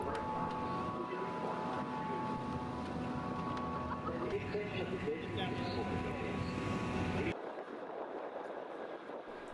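A ferry crossing the Sound of Sleat to Armadale in choppy water and cool wind: a continuous engine drone mixed with wind buffeting, which cuts abruptly to a quieter, thinner wash near the end.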